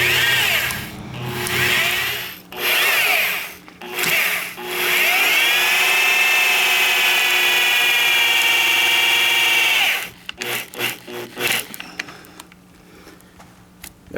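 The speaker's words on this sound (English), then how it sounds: "This goes, because they're so big, will work better with a drill or an electric screwdriver." A drill or electric screwdriver drives long screws for a Kwikset deadbolt and door lock into a door, with a loud sustained whining motor run broken by short bursts, then rattling clicks and stops.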